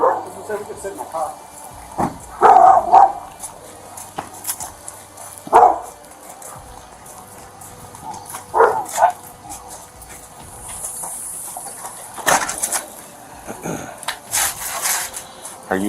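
Dogs bark in short, loud bursts at irregular intervals, with yips and whimpers between, heard fairly close and mixed with people talking.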